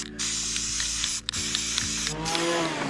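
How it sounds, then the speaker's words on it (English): Black enamel spray paint hisses from an aerosol can onto wood in continuous bursts with two short pauses, close up, with a faint mechanical rattle of the nozzle underneath. "So I'm just spray painting this thing."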